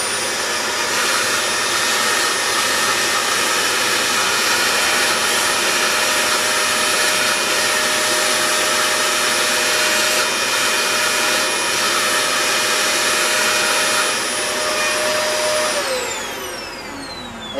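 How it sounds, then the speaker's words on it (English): A vacuum cleaner removing powder from surfaces drones loudly and continuously with a steady whine, then winds down as it switches off at the end. "We'll start again with the vacuuming method."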